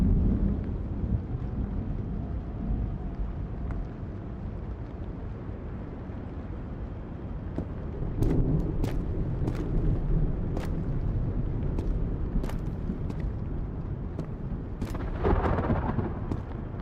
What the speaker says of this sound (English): The storm makes it a little more difficult to hear.